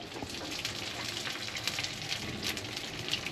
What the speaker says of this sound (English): Alright, now we're frying them up.